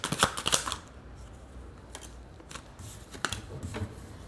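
Tarot cards being shuffled and drawn, with quick riffling bursts at the start followed by scattered soft flicks and slaps of cards, close and fairly quiet.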